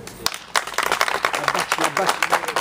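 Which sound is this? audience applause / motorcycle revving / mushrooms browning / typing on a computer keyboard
audience applause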